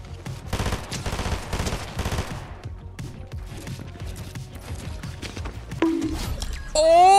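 A Fortnite SMG rattles off rapid, close bursts of fire that thin out into scattered shots and impacts, ending with a rising electronic whine.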